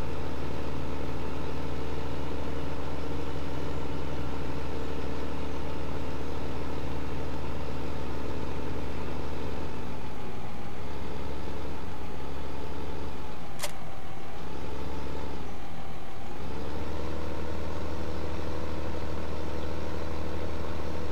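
In Farming Simulator 2015, a tractor pulling a bale trailer drives along with a steady, droning engine hum that dips briefly in pitch before settling back to an even, continuous tone.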